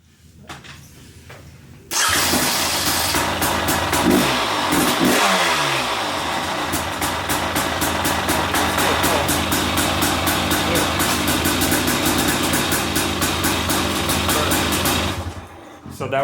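A KTM 300 two-stroke dirt bike fitted with a new Hinson clutch starts up after a quiet moment and runs loud and close, with a brief rev and then a steady, rapid engine note that cuts off near the end.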